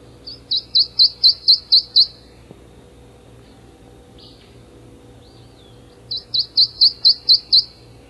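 Two bursts of rapid, evenly spaced high bird notes, about six or seven identical sweet chirps each, steady in pitch, with a quiet gap between.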